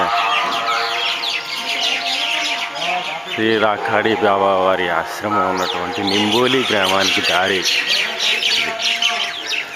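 Pre-dawn birdsong near an ashram in Nimboli village fills the background as a steady chorus of chirps and squawks, with someone speaking over it for much of the time.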